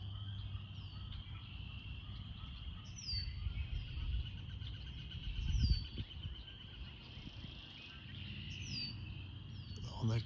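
Birds call and chirp in an outdoor natural setting, short faint tweets recurring every few seconds over a low rumbling background with soft movement noises.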